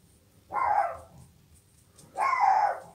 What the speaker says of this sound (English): my dog is going crazy out there. Can you hear my dog barking at all the other fellas?